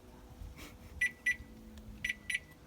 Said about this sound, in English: Vehicle locked, beep and flash